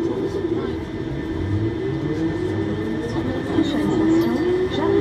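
A Siemens VAL 208 metro train on the Toulouse metro pulls away, its motor whine climbing steadily in pitch over a rumbling interior hum, with a voice speaking over it.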